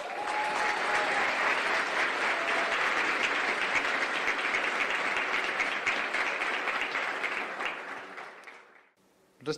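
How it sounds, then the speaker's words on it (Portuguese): An audience gives a round of applause for Núbia at a business talk, a thick, sustained roar of clapping that holds steady for about nine seconds before tapering off and stopping. "Um aplauso para a Núbia."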